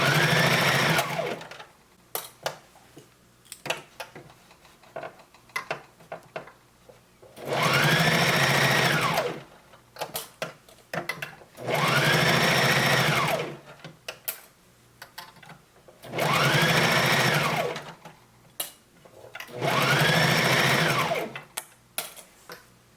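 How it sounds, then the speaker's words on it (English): A sewing machine running a long zigzag stitch through swimsuit elastic, lining and outer fabric, in four steady bursts of whirring a few seconds each, separated by pauses with light handling clicks. "And it's a long zigzag stitch on my sewing machine is what I like to do."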